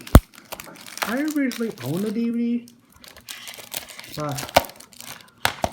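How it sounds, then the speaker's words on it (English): Crinkling plastic wrap being peeled off a DVD case comes in short crackly bursts and tears, close by, between stretches of a person talking. "let me just unwrap this."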